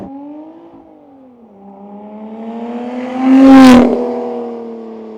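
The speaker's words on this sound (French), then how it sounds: "Les valves d'échappement sont ouvertes pour bien faire respirer le moteur." Lotus Evora 400 V6 engine with sport-mode exhaust valves open, revving up from a steady drone to a loud, sharp peak near the middle before settling back, heard alone without talk.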